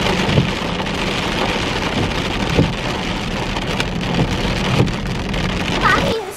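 Steady rain hisses throughout with low rumbles of thunder rolling underneath, a continuous stormy wash with no clear pauses.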